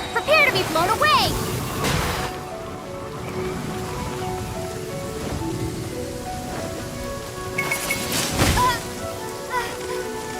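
Rain attack effect in Genshin Impact: a steady hiss of rain-like patter runs throughout, with sharper splashing bursts near the start and again toward the end, while a voice speaks over parts of it.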